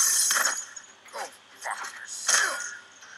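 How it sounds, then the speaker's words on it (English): Glass bottle shattering in a creative sound-design project, heard as a few sharp, bright crashes and tinkling breaks spread across a short stretch, close and crisp. "The glass shattering was really cool though."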